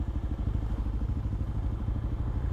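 A heavy 1200 motorcycle engine runs with a deep, throbbing pulse, a close, steady low rumble heard alone on a road in the Karoo between Sutherland and Williston.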